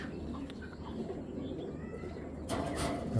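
A large green-necked pigeon coos softly and repeatedly, with a brief rustle or flutter near the end.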